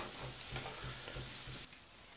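Diced onion frying gently in a pan, a steady close-up sizzle with a faint rhythmic low pulse, cutting off abruptly near the end.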